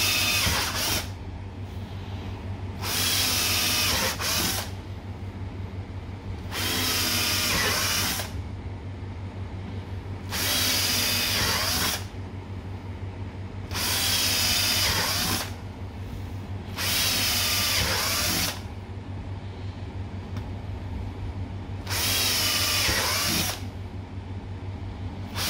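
A power drill bores holes into a homemade sand shovel for beach detecting, running in about six regular bursts of a few seconds each with short pauses between, close and loud over a steady low hum.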